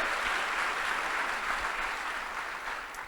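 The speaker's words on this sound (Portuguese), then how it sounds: "Aplauda ao Senhor por isso, querido." Congregation applause during a church service, a dense, steady wash of clapping that fills the whole span without pause, moderately distant and reverberant, with no talk over it.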